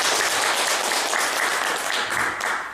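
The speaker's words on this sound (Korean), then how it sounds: "큰 박수를 한번 보내주십시오." An audience at a Buddhist dharma lecture gives a big round of applause, a dense, continuous wash of many hands clapping that stays steady and loud throughout with no pauses.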